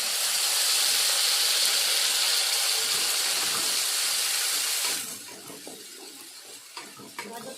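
Carrot paste hitting a hot pan for a sweet, a loud even hiss and sizzle for about five seconds that suddenly drops to a faint crackle with a few soft stirring clicks.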